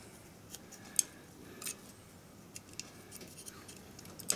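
Small scissors snip around the edges of a paper model of a Tudor tea shop, with faint, sparse little clicks and cuts at irregular intervals over a quiet background hiss.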